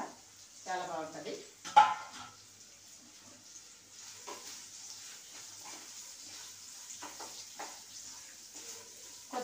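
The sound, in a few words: carrot and onion frying in a pan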